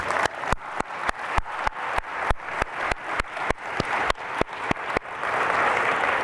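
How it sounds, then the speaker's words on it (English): Audience applause at a world forum on gastronomy tourism: dense clapping with regular loud, sharp hits standing out close by, then settling into an even wash of claps. "and applause, please."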